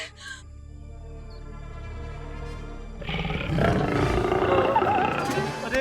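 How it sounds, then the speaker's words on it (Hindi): A tiger roars nearby, a deep growl that swells into a loud, sustained roar over rumbling background sound, with faint bird chirps early on. "बाघ की ध्वनि तो तेज होती जा रही है। लगता है बाघ आसपास ही है।"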